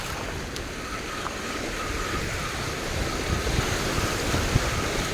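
Choppy, rough sea waves wash and churn steadily while fishing from a boat, a broad rushing surf texture mixed with gusty wind buffeting the microphone, with a few faint clicks and no one speaking.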